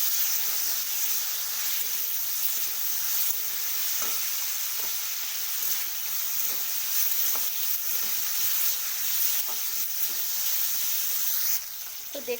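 Bottle gourd peels fry in a pan with salt and turmeric, making a continuous, even sizzle with soft crackles throughout and no voices.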